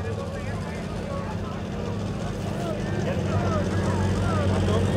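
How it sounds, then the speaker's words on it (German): A Super Sport class tractor in a 3.6-tonne farm pulling competition at Edewecht holds a loud, steady engine roar that builds gradually across the clip, with a commentator talking over it. "Langsam lässt er ihn auf Korn kommen, den Motor von Mr. Black."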